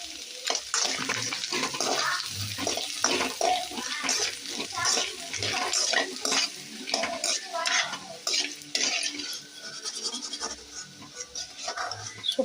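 Sun-dried rice crisps (kanji vathal) fry in hot oil with a busy crackling sizzle, broken by the scrape and clink of a stirring utensil, close and fairly loud.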